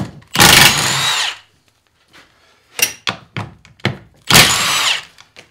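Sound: impact wrench with impact socket

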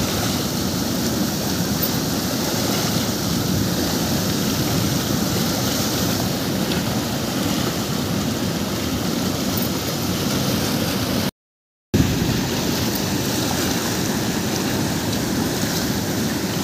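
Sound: rushing river water

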